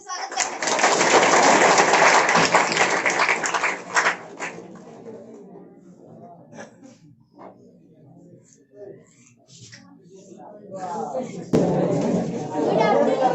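Audience applause at a school Teachers' Day celebration, loud and dense in the opening seconds, then dying away into quieter murmur and scattered sounds before talk picks up again near the end.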